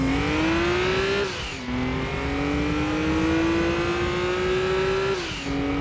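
A Nissan Skyline engine in Gran Turismo 2 on PS1 revs hard and climbs in pitch, drops briefly at each gear change, then rises again, loud and close and steady.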